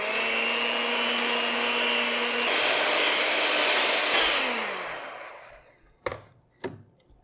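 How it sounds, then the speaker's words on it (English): Egg whites whipped to stiff peaks for keto cream puffs with an electric mixer, a steady loud whirring drone that winds down and stops, followed by two sharp taps of the beaters against the bowl. "And now we're going to beat our whites to stiff peaks."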